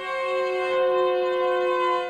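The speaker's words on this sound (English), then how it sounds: "Is that a warning siren? Where could that be coming from?" A warning siren in the Siren Head video game sounds as a sustained, loud, rich wailing tone that swells and eases slightly over about two seconds, alone without talk.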